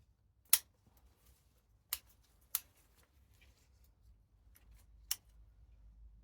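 Scissors snip back a tree branch in a few sharp, crisp cuts spaced irregularly, close by against a quiet background.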